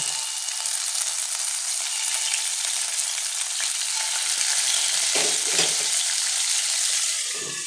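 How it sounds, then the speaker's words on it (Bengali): Hilsa fish frying in hot oil in a wok, giving a steady, dense sizzle and crackle that continues unbroken throughout, close and fairly loud. "এবার আমি মাছগুলো ছেড়ে দেবো। মাছগুলো প্রথমে ভেজে নেব।"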